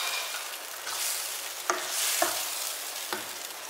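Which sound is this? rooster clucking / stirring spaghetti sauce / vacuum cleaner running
stirring spaghetti sauce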